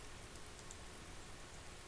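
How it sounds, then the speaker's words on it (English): Steady rain patters on umbrellas in a hushed outdoor scene, a soft continuous wash of drops with no other sounds. "all I heard was the sound of raindrops on umbrellas"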